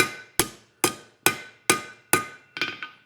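Forged wall sconce hammered on an anvil: six loud, evenly spaced ringing blows, each decaying quickly, then two lighter, quicker taps close together.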